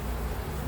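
Honey bees buzz around an open beehive during an inspection, making a steady, dense drone up close. The burst is brief and there is no speech.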